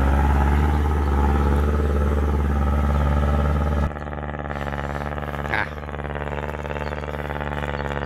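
Kubota L5018 tractor engine fitted with a loud aftermarket exhaust pipe, running steadily with a strong low rumble and throaty drone that holds for the whole stretch and drops slightly partway through, with no talk.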